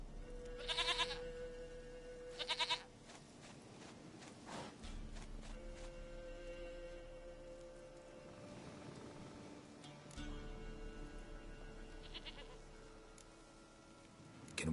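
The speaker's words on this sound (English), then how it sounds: "Goat of mine, dearest," A goat in the video game The Witcher 3 bleats twice early on, quiet and brief, over faint game ambience with soft music and footsteps.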